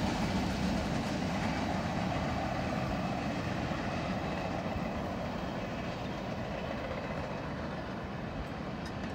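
A Norfolk Southern freight train passes under an old bridge, a steady rumbling roar of wagons rolling by without pause, moderately distant.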